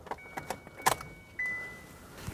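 Kia Optima switched on to accessory mode with the key: faint key jingles and clicks, then a thin electronic chime holds for about half a second in a quiet cabin.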